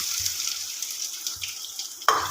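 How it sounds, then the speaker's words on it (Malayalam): Coconut pieces crackle and sizzle in hot ghee in a pan for an Onam unniyappam, a steady hiss with soft pops, then a sharper burst of spattering near the end, no voices. "തേങ്ങ വറുത്തെടുക്കാൻ വേണ്ടിയിട്ട് ഞാനൊരു ചട്ടി വെച്ചിട്ടുണ്ട് അതിലേക്ക് ഞാൻ കുറച്ച് നെയ്യ് ഒഴിച്ചു കൊടുത്തിട്ടുണ്ട്"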